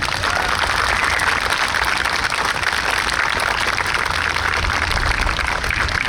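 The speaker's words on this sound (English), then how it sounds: "we think it's those guys that deserve a real round of applause this afternoon" A large outdoor audience gives sustained, dense applause at a New York State Police special operations response exhibition, a steady loud wash of clapping filling the whole stretch without a break.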